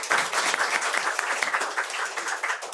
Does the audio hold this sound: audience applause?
yes